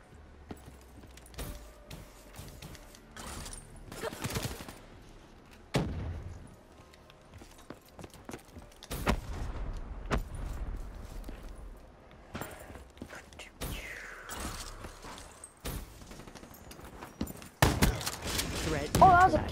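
Video game gunfire and a grenade blast in Call of Duty: Black Ops III multiplayer beta: sharp, scattered shots and heavier broadband bursts, the loudest near the end, over a busy game bed with some voice present.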